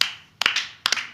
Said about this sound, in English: Slow clap.